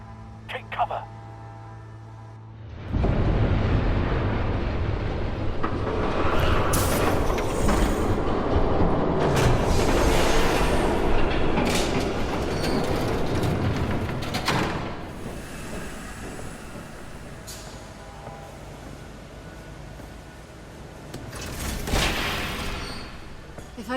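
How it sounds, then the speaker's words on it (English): Train thundering past in a Batman: The Telltale Series game scene, a loud, broad roar swelling in after a quiet start, rattling and clanking for many seconds before easing, with brief game voices around it. "There's a train coming. Take cover."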